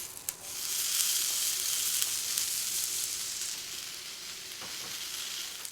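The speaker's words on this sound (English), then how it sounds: "Heat a frying pan with some oil to a moderate heat and add the tomato halves one by one." Tomato halves fry in a pan of oil at moderate heat, giving a close, steady sizzle and crackle throughout with no talking.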